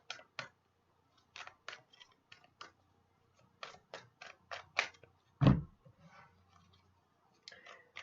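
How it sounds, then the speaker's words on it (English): Tarot cards are shuffled by hand in a quiet room, a run of crisp irregular riffling snaps and flicks with one louder thump near the middle, close and alone without talk. "So I'll just shuffle Josh's"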